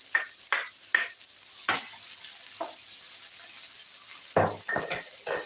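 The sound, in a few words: mixed vegetables added to wok with onions and garlic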